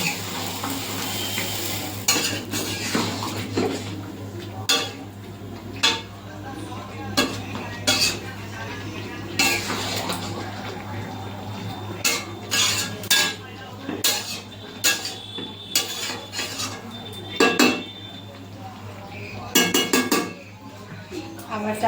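A utensil stirs chicken in a metal pot, sounding as repeated sharp clanks and scrapes against the sides over a low steady hum and faint sizzle, close by, with no talking.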